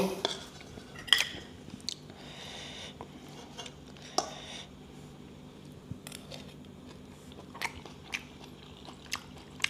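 Cutlery clinks and scrapes against a plate while someone eats pork larb, with scattered sharp clicks and soft chewing over a quiet room background.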